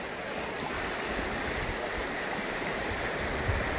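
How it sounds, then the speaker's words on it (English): A very fast river in Denali rushes in a steady, loud broadband roar from close by, with no pauses and no voices. "Very fast moving river."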